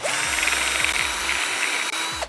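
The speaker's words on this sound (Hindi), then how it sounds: "कर दीजिए बस चालू ड्रिल मशीन देखिए" An electric drill machine runs continuously while building a simple homemade radio, giving a steady close whir with a series of repeating ratcheting surges. No one speaks.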